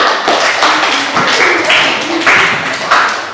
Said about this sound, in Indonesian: Oke, silakan kita berikan tepuk tangan untuk orang tua.